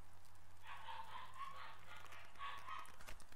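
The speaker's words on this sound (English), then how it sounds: "if you can hear my dogs in the background" Faint, muffled barking from dogs downstairs in a few quick bursts, distant as if from another room, over a low steady hum.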